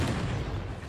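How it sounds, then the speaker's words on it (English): A small Rhydonium explosion from the animated series Star Wars: The Bad Batch, heard as a dense, loud rumbling boom that fills the whole second with low crackling energy. "Oh, that was a little baby Rhydonium explosion."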